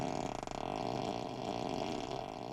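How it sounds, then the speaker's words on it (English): Tesla Model 3 seat fart sound effect, the Ludicrous Fart setting, played through the car speakers as one continuous, loud, rumbling, wet-sounding blast lasting a few seconds with no talk. "you can activate each seat so that when someone sits on it, as you can hear, it makes a farting sound"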